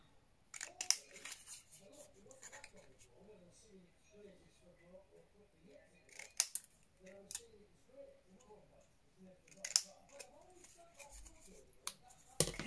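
Scissors snip through paper pieces for a craft project, a string of soft, quick crisp cuts spread across the stretch with a few louder sharp clicks, close by and quiet, with faint talk in the background.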